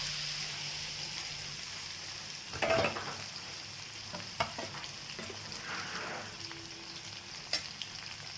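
Chicken meat frying in a kadai with an onion, ginger, garlic and chili paste, a quiet steady sizzle with occasional stirring scrapes and small bursts of spattering.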